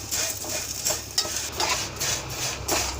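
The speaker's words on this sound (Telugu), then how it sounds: "ఇప్పుడు అదే ప్యాన్లోను 1 స్పూన్ నెయ్యి వేసుకొని సేమియాలు కూడా ఎర్రగా వేయించుకోవాలండి." Vermicelli (semiya) roasting in a spoonful of ghee in a pan, with steady scraping and stirring strokes of a spoon against the metal over a soft continuous sizzle, close up and alone without talk.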